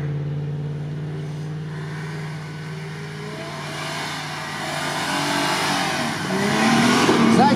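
A stock Prado off-road vehicle's engine idles and then revs harder, climbing to a louder, rising roar toward the end, heard close with faint voices in the background.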